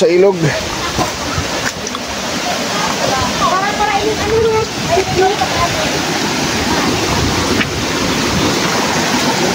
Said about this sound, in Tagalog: Dito na tayo sa ilog,